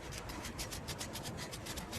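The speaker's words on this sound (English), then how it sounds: "get a sandpaper and just sandpaper the edges" A small piece of sandpaper is rubbed back and forth over rusty metal edges, making a quiet, close, rhythmic rasping scrape with rapid repeated strokes.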